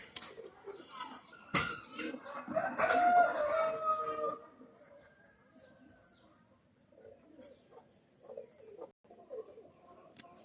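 Band-necked Omani pigeons coo in a low, rolling call close by, with a sharp knock early on and quieter shuffling and faint calls afterward.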